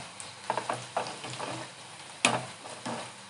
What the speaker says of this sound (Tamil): நிதானமாக நம்ம வதக்கி எடுத்துக்கலாங்க.